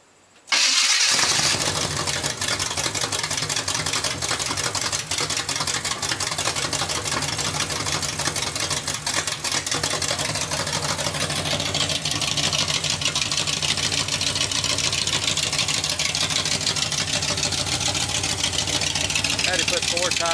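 A salvaged 1965 Chevrolet Nova SS garage find cranks briefly, then fires up and settles into a loud, steady idle with a deep rumble that runs on uninterrupted for the rest of the clip.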